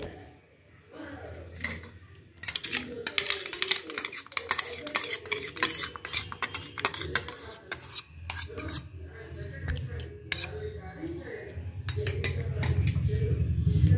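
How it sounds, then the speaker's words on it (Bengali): A wet mixture poured into dry fruit cake ingredients in a bowl and stirred, with repeated scraping and clinking of a utensil against the bowl, moderately loud throughout. "এবার আমি এই শুকনো উপকরণগুলোর সঙ্গে এই মিক্সিংটাকে ঢেলে দেব।"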